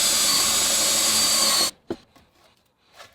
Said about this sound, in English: I might just drill one smaller one either side of that as well